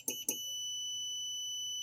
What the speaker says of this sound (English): you hear that beep, means it has good continuity